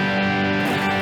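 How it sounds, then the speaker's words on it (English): Heavily distorted electric guitar tone ringing out as a sustained, dense chord, loud and alone. "So a big heavy distortion sound is what you want."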